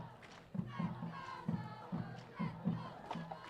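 Enthusiastic crowd at a high school football game, rhythmic chanting and shouting in repeated bursts, moderately distant and fairly faint.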